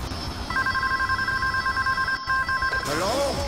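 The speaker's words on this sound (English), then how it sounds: "I found a satellite phone!" A satellite phone rings in the Scarface: The World Is Yours video game, a warbling electronic trill pulsing in rapid repeated bursts over game background noise, loud and close before cutting off.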